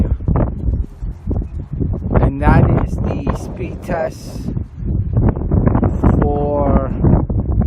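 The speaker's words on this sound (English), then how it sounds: "Sorry about the sound, but it's very windy out here." Strong wind buffets the microphone outdoors, rumbling and gusting steadily under continuous talk throughout.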